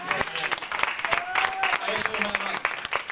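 Congregation clapping during a Sunday Spanish-language church service, a short burst of scattered applause with voices mixed in, moderately loud and fairly close.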